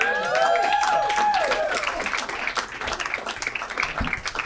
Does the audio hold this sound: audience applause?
yes